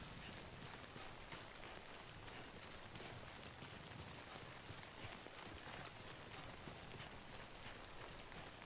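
Timefall rain in the video game Death Stranding falls as a constant, even hiss of rain on surfaces, soft and unbroken throughout with no voices over it.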